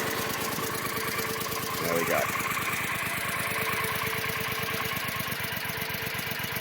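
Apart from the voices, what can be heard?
Triumph America motorcycle idling with stock exhaust pipes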